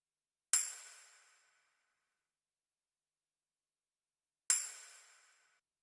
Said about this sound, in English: the next sound is a tambourine